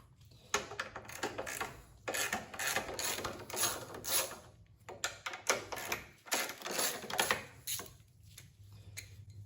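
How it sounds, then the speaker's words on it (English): Ratchet-style clicking and metallic rasping as 10mm bolts are worked loose on a John Deere LT 133 lawn tractor, in close, repeated bursts with brief pauses, no talking. "So the first couple of bolts you're going to take off are these two 10mm right here."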